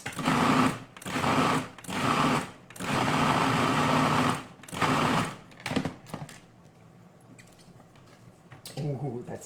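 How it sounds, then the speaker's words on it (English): A food processor whirring through mashed cauliflower with roasted garlic in several loud pulses of a few seconds each, then going quiet before a voice speaks. "Let's give it just one little pulse."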